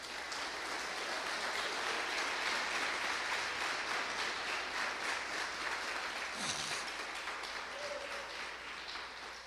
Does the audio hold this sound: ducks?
no